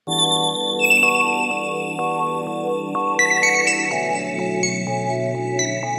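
Bright electronic synth tones step through a melody, sustained and stacked with harmonics, shifting pitch every half second or so with no voices.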